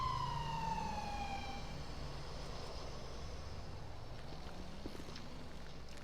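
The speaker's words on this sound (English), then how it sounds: "So your ambulance is arriving." Ambulance siren in the video game GTA 5, a wailing tone sweeping down at the start and then settling into a faint, distant cycling wail over steady low engine and road rumble.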